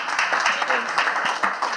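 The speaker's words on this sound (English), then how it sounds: "Please give him a round of applause." A conference audience applauds a speaker with a brief burst of scattered clapping, and a voice speaks over the applause.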